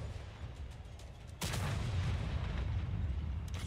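A single loud boom from a tank cannon in World of Tanks console play, rising sharply out of low engine rumble and leaving a sustained roaring tail.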